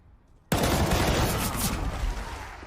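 Gunfire erupts in CS:GO during a professional Astralis vs fnatic semi-final at DreamHack Masters Malmo 2019: a sudden loud burst of shots that stays dense and sustained after a brief quiet start.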